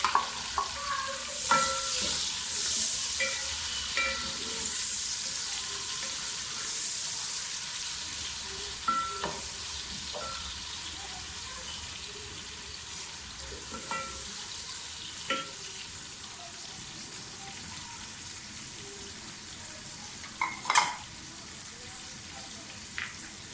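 Onions fry in a pan for chicken biryani, giving a steady soft sizzle broken by occasional stirring clicks and scrapes, fairly quiet throughout.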